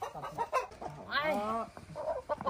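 A rooster clucking and squawking loudly up close as it is caught on a farm, one agitated drawn-out cry amid shorter clucks, with brief human voices mixed in.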